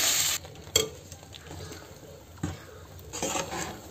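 A spoon scrapes and clinks against a pan while ground spices are stirred into ghee, giving a few sharp knocks among soft, quiet scraping with a faint sizzle underneath.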